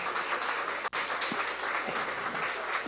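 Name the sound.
audience applause at school inauguration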